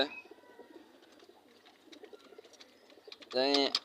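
Pigeons coo with soft, throaty calls amid a backyard pigeon release, faint at first and then swelling into one louder, close coo near the end, with a voice in the background.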